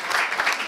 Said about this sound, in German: Also, ein Applaus.